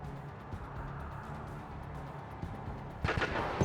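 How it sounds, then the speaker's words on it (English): In Command & Conquer 3, a bombing run power hits an enemy structure with a dull rumble of distant blasts, then a sharper burst of impacts near the end under steady game ambience. "Notice the bombing run power is able to damage enemy structures without you needing to jeopardize your units."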